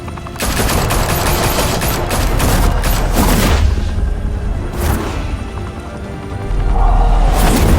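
Loud, dense automatic gunfire and booms from a Batman video game shootout, sustained bursts rattling almost continuously with a few heavier impacts.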